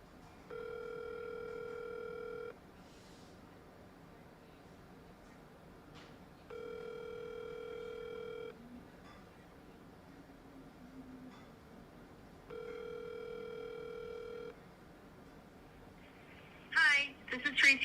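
Phone ringback tone while calling a real estate agent: three long two-second tone bursts spaced about four seconds apart over faint background noise, ending in a brief burst of sound as the line connects.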